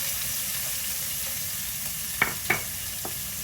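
Red pepper fries in bacon grease at the bottom of a soup pot, a steady hiss with a few brief clinks of stirring near the end.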